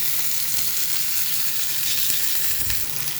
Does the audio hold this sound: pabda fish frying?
yes